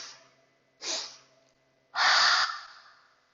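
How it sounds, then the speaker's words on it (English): Yoga breath-of-joy breathing: two forceful nasal inhales, a shorter one followed by a longer, louder rushing draw of air, close to the mic with quiet gaps between and no speech. "breathing in"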